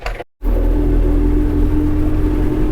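An MTZ 82.1 tractor drives on across a field, its diesel engine a loud steady close rumble with a constant low hum after a brief cut of silence near the start, no voices.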